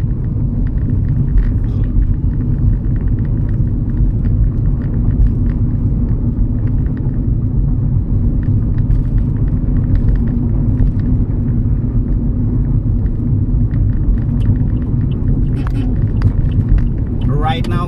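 A Toyota Vios 1.3E with a manual gearbox drives along a provincial road in Zamboanga del Sur, giving a steady, loud, low cabin rumble of engine and tyre noise that continues throughout with little change.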